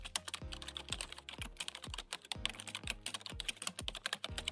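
A computer keyboard being typed on at a steady, moderate pace, with clear individual key clicks close up and no voices.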